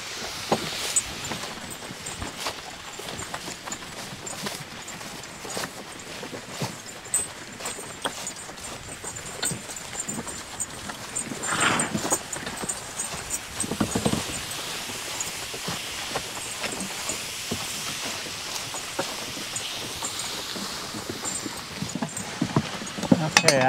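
Draft horses Duke and Earl walk along during a training session, their hooves clip-clopping in an irregular steady rhythm at moderate distance, with outdoor ambience and a voice talking intermittently over the steps.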